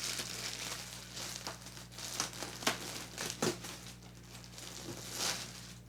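A blanket wrapped in plastic is unwrapped, producing close, irregular crinkling and rustling bursts with a few sharper crackles, fairly quiet and with no talking.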